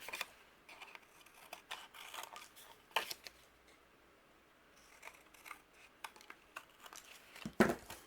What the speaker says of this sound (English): using my scissors, we're going to trim away the excess